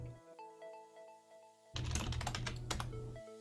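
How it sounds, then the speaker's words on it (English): Keys clatter on a computer keyboard in quick, irregular bursts, growing louder and denser midway with a steady hum and tonal background music underneath, and no talking. "Copy something else on my keyboard."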